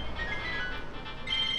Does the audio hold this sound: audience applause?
no